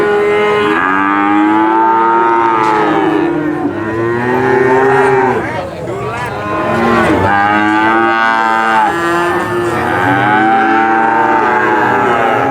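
Cattle at Pasar Sapi Pon Purwokerto, a breeding-cattle market, moo loudly and almost continuously, with several drawn-out calls overlapping one another and no talking heard.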